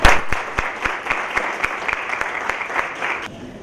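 Audience applause at a book launch greeting Professor Carol, a dense, steady clapping from a small crowd with a few sharp individual claps standing out, holding for several seconds before thinning slightly at the end.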